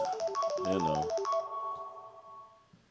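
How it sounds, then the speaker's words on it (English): An incoming call sets off a phone's melodic ringtone: a bright, close run of rising and falling electronic notes that ends after about a second and a half, leaving near silence. "We have a phone call."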